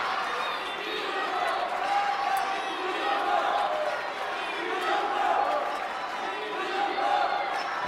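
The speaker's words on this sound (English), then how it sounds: "as the crowd chants for Dima, it drowns out the chants for Zhendong" A large arena crowd at a table tennis match, the 2017 ITTF Grand Finals, chants in a rhythmic, pulsing swell that repeats every second or so. A commentator talks over the chanting.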